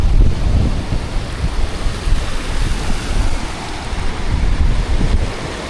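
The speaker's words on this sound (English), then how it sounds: "look at them waves crashing coming in" Loud ocean waves surge and crash onto the rock pools at Toco bay in a steady roar that swells and eases, mixed with heavy wind buffeting the microphone.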